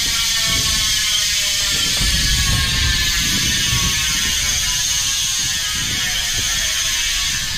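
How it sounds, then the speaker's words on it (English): A Profile Racing BMX bike wheel spins freely and its hub ratchets in a loud, close, rapid buzzing click train that runs continuously and slowly tapers as the wheel coasts, with no talking. "I'm gonna give it a quick spin so you guys can hear that noise."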